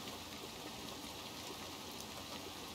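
Steady, soft rain hisses evenly throughout a scene in the video game Little Nightmares 2, with no single drops standing out and no voices.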